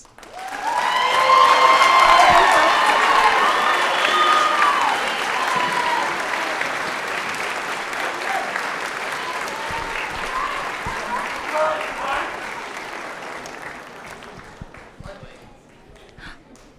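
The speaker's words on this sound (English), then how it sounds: "A big round of applause, please." At an 8th grade celebration ceremony, a crowd breaks into loud applause and cheering that peaks early, then thins and fades over about fifteen seconds into scattered claps.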